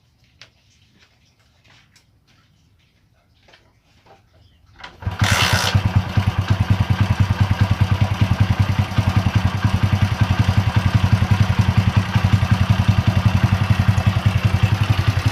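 Honda Win motorcycle with a noisy cam chain, starting up after quiet shuffling and then idling loudly nearby with a rapid, rattling, ticking chatter over the steady engine beat.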